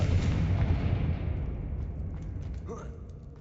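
A Confringo fire spell in Hogwarts Legacy bursts into a loud, broad explosive rumble that fades away over a few seconds, with a faint crackle near the end.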